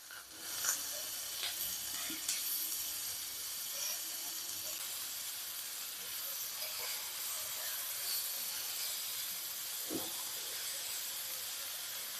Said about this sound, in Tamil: ஓரளவுக்கு நல்லா வதங்கிடுச்சுங்க